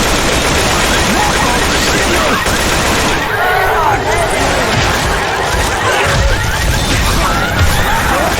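Rapid gunfire crackles continuously through a chaotic Left 4 Dead 2 firefight, with multiple weapons firing in dense overlapping bursts at close range while voices shout over the din.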